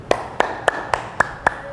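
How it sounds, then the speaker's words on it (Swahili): A church congregation claps in praise of Jesus at a Tanzanian university prayer conference: seven sharp, evenly spaced claps about a quarter second apart, loud and close, with no voices over them. "pigia Yesu makofi."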